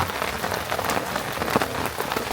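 Steady rain falls on a dark, quiet forest campsite, a dense, even patter of drops with occasional louder splashes and no voices.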